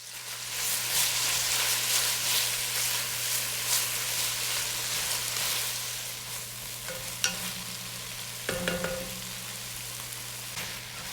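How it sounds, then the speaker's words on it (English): Tomatoes sautéing in a pan for ginisang ampalaya with shrimp, a steady broadband sizzle with occasional utensil scrapes and clinks, close and continuous with no talking. "Now add the tomatoes and saute until the texture turns soft"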